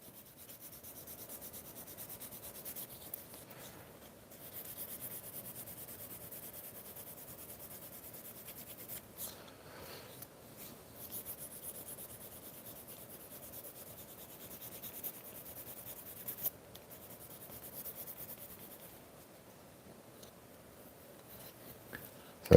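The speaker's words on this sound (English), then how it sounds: "At this stage, we're not really removing a lot of the leather. We're just kind of polishing that surface." A leather surface is polished by hand, a soft, faint, continuous rubbing with small scuffs and occasional light taps, quiet and close with no voices.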